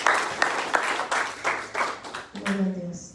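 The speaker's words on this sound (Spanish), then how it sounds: "Den un aplauso al Padre, al Hijo y al Espíritu Santo." Church worshippers clap together in a steady, evenly spaced rhythm for a couple of seconds, then the clapping stops and a voice takes over.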